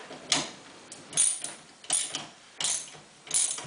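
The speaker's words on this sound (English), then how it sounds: "Just get the ratchet set the right way around" Ratchet wrench clicking in four short bursts while undoing the bolts on a homebrew beer engine, close and clear with quiet pauses between strokes.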